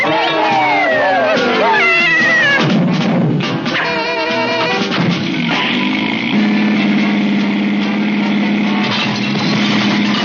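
A cartoon cat meows and caterwauls in a series of loud, wavering, sliding cries, layered over a busy soundtrack, with a steady engine-like hum droning underneath in the second half.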